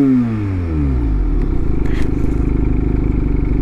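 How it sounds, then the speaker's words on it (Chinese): Benelli 252R sport bike on its stock exhaust, engine note rising through a rev then holding a steady, rough rumble close by, with light mechanical clatter. "啊，这个原厂的声浪"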